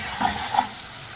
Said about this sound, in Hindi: एक बड़े साइज का प्याज बारीक कटा हुआ, इसको हल्का सुनहरा फ्राई करना है।